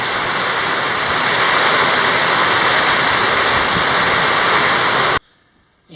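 Heavy rain pours down in the Amazon jungle as a dense, steady hiss, loud and unbroken for about five seconds before stopping abruptly.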